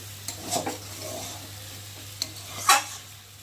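A pan of pumpkin, potato and Malabar spinach curry gets stirred, giving a low simmering hiss with a few distinct scrapes and clinks of the spoon on the pan, over a steady low hum.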